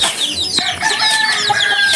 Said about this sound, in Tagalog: manok